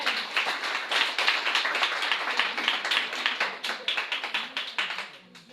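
Church congregation clapping in praise of the Lord, a brisk, steady patter of many hands close by, holding a fairly even rhythm and fading slightly at the end, with no speech over it.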